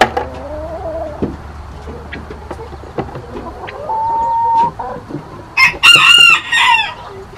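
Backyard hens cluck in short, scattered calls near the coop, with a few longer drawn-out clucks, then a rooster crows loudly nearby near the end, no voices heard.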